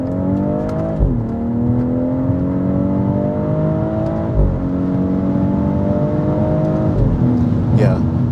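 A 2023 BMW X3 M40i in manual mode, heard close from inside the cabin: a loud, steady engine drone that rises smoothly, with three sharp throttle blips and brief dips in pitch at the gear changes.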